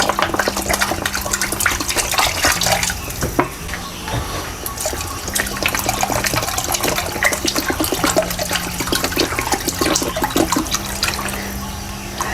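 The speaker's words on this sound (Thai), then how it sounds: "แล้วให้เติมน้ำลงไปเลยค่ะ" Water pours steadily into a cooking pot on a gas stove while pork-leg sour curry with papaya is made, a loud continuous splashing rush that lasts throughout, with a low hum beneath.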